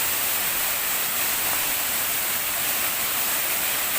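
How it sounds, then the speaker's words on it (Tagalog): Waterfall in a forest, a steady, dense broadband rush of falling water heard up close, continuous and even throughout with no voices. "So ngayon ay pababa kami para malapitan talaga natin yung waterfalls."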